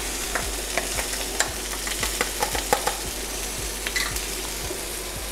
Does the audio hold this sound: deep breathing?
no